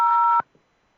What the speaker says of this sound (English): I'm using my phone. Like I hit these buttons.